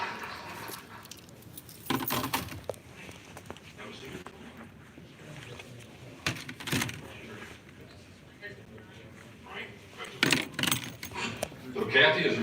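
Keys and small metal items jangle and clatter in short bursts at an airport-style security screening, scattered over several seconds with people talking nearby.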